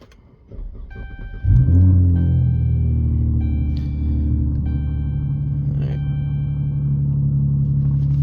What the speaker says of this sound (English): Alright, vehicle starts and runs.